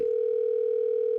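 Steady telephone dial tone on a live stream, one unbroken loud electronic hum lasting the whole moment, with no talk over it.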